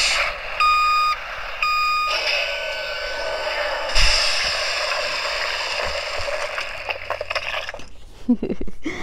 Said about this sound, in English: This is the tool sound, the dump truck sound